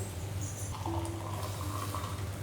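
Water pours in a soft, steady trickle into a pan, faint and continuous for a couple of seconds.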